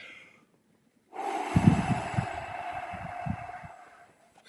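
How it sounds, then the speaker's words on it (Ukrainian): One slow, deep exhale is pushed out through the mouth as if blowing out a candle during a calming breathing exercise, breathy and close, lasting several seconds with a few rougher bursts. "я роблю глибокий вдох і повільно"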